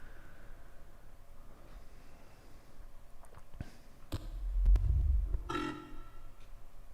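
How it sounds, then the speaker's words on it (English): A single low, rumbling burp rises out of quiet background noise, followed by a brief higher squeak, with no talking. "Burp."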